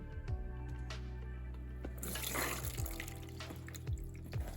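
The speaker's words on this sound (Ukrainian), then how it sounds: "протіжую і промиваю під проточною водою" Tap water starts running midway, a steady splashing stream over a low background hum, with soft clinks and bumps as soaked lentils are strained and rinsed.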